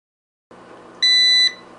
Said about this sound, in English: it should beep, and then we'll get it on in